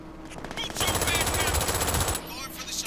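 Rapid machine-gun fire and turret shooting in the video game Brink, a loud sustained burst of automatic shots in the middle with quieter gunfire before and after.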